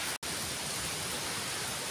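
Monsoon rain pours outside Ozar cave near Malvan, a dense, even hiss of falling water that runs on steadily after a brief cut at the start.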